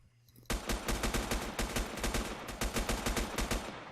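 Video game shooter gunfire: rapid automatic bursts crack out loud and steady for several seconds after a quiet start, with brief pauses between volleys.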